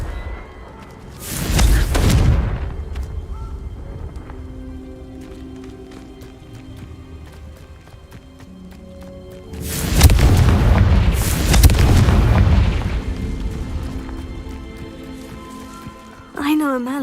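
Confringo blast spells explode in the Hogwarts Legacy video game: two loud, booming bursts a few seconds apart, each trailing into a rumbling decay over a quiet background of game ambience.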